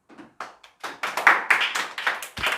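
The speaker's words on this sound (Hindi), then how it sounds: "तालियां हो जाए।" Hands clap in a classroom lesson, a handful of distinct, fairly close claps arriving in an uneven rhythm with short gaps between them.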